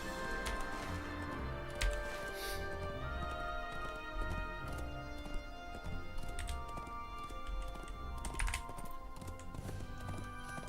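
War Steed hooves in Lord of the Rings Online, a steady clip-clop of a horse trotting over ground with soft clicking layered in, continuous and fairly close, under game music and ambience.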